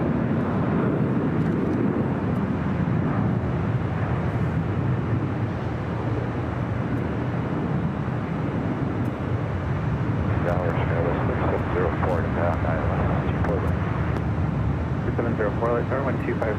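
A China Southern Airlines Boeing 787-9 Dreamliner from Guangzhou landing at LAX, a continuous broad jet roar that holds steady throughout, with people talking over it.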